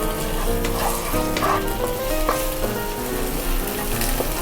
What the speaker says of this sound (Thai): เราจะผัดให้มันสุก และหอม นะครับ